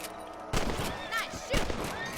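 Gunfire in the Red Dead Redemption video game, with two loud bursts of shots among game sound effects and background ambience.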